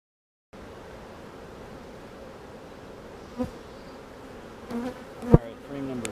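A steady drone of many honeybees buzzing around an open hive during an early March inspection hums throughout, with a few sharp clicks and knocks near the end.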